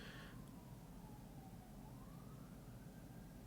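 Fire truck siren from passing emergency vehicles outside, a faint, distant wailing tone gliding slowly up and down over a steady low rumble of background noise.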